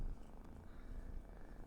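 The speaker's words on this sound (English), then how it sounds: "here's my cat with a loud purr" A cat purrs loudly and steadily up close, a continuous low rumbling vibration with no other sounds.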